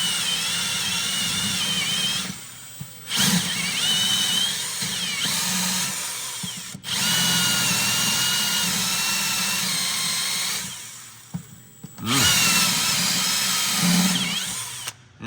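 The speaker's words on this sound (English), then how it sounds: "and then I got me a hole saw" A hole saw, following a 1/4 inch pilot hole, bores through tough metal during dry sump work on an off-road race vehicle, running in loud sustained bursts with several short pauses between cuts, close up and alone.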